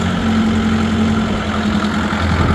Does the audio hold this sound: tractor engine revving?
yes